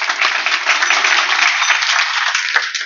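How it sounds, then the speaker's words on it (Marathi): Sustained audience applause at a Marathi kirtan devotional gathering, a dense, even roar of many hands clapping for about three seconds, steady and close with no talk over it. "माझ्या तरुण टाळकऱ्यांसाठी एकदा टाळ्या वाजवा."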